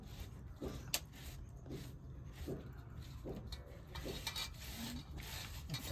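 Fresh leaves rubbed and crushed by hand for making patvad, a rustic leaf preparation, giving repeated rough rasping scrapes in an uneven rhythm, close and moderately quiet with no speech.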